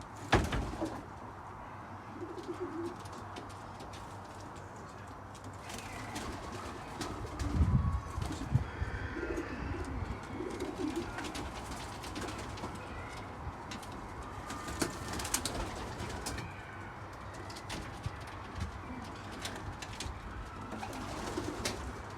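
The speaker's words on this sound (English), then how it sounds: "I'll just show you this one cock here." Racing pigeons cooing steadily in a loft, a soft continuous chorus of low burbling calls with a brief fluttering or shuffling burst partway through, no voices.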